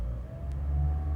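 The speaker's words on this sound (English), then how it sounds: "if you rev the engine, just pressing the throttle" A Toyota C-HR Hybrid engine idles with a steady low hum, then revs up gently and stays raised, a smooth mid-pitched whir with no other sounds.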